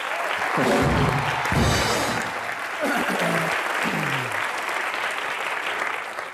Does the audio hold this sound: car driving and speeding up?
no